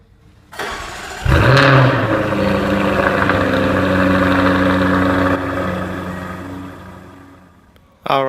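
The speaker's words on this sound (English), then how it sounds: "let's get into the car, start it up, and see how it sounds" 2015 Jaguar F-Type R Coupe with a 5-liter supercharged V8 cranks and fires with a sharp loud bark, flares briefly, then settles into a steady deep idle that drops slightly before a final blip near the end.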